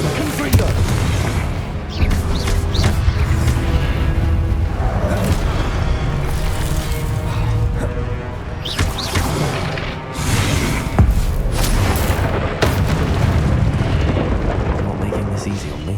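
Confringo fire spell blasting in Hogwarts Legacy, a run of booming explosions and crashes over a dense combat din, with a voice calling out between impacts.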